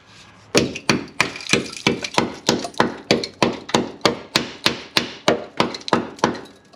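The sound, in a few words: hammer banging on rusty car rear wheel well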